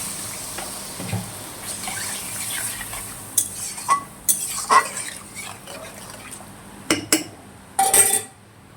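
Fried potatoes being stirred and sautéed in a pan with a spatula for a curry, scattered scrapes and metallic clinks at irregular intervals, close and moderately loud.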